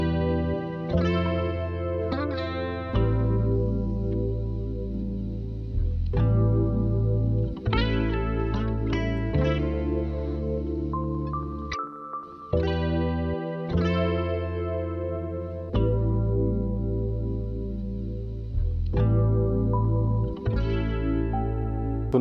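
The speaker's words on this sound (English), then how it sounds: "I added this bass one shot from Hi-Cap's Discover kit" A smooth R&B bass one-shot from Hi-Cap's Discover kit follows the root notes, sustained low tones changing pitch every few seconds beneath a layered, effected chordal backdrop with chorus and slight distortion, steady and loud throughout with no talking.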